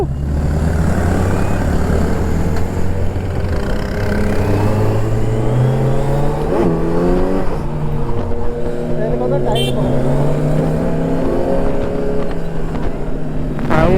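A Kawasaki Z900 motorcycle fitted with an Arrow full titanium exhaust system growls loudly and steadily, its engine note rising and falling with revs, while people talk over it throughout.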